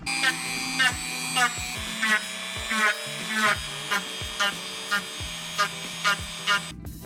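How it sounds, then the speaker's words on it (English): A Dremel rotary tool shapes foam armor in repeated short passes, a steady whirring hum broken by about a dozen rhythmic bursts of grinding as the bit works along and back over the edge. "when I get to the edge, I flip it around and I Dremel backwards."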